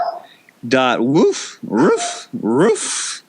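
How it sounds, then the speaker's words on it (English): A dog barks and yowls nearby in three drawn-out bursts, loud and close. "if you guys can hear the dog in the background"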